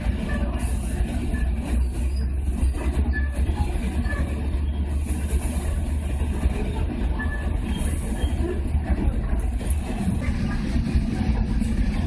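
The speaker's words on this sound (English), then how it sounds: "Please be careful. You exit the train in Bermuda Station." A passenger train runs along the coast near Del Mar, San Diego, with a steady, loud rumble and rolling wheel noise throughout, and faint voices now and then.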